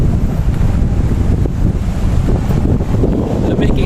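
Strong wind at Intramuros in Manila: loud, steady gusts roar and buffet the microphone throughout with constant low rumble and no clear voices.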